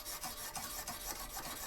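A knife blade drawn over a Lansky sharpener stone, quick repeated rasping strokes in a steady back-and-forth rhythm, close and fairly quiet.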